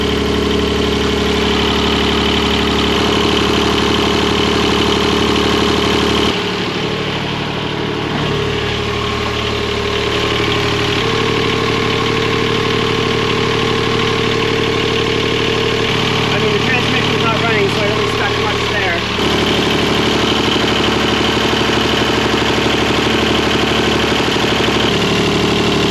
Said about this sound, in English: leave the motor running for 15 minutes